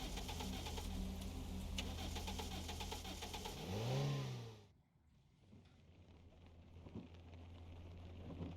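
Car engine in the Chasing Static video game, a rising rev under a dense bed of ambient game sound that swells and then cuts off abruptly, followed by quieter background.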